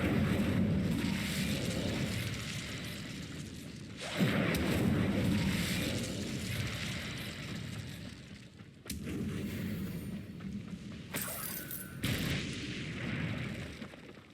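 Incendio fire spell cast repeatedly in the Hogwarts Legacy video game, each cast a loud booming whoosh of flame that swells and fades, several in a row with short gaps between.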